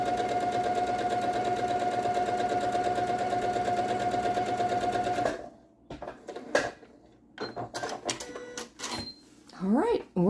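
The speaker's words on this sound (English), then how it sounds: "And stitch all the way down." A sewing machine stitches quilt pieces in a steady, fast mechanical whir for several seconds, then stops, followed by a few scattered clicks and handling noises.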